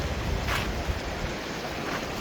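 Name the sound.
creek water flowing in shaded area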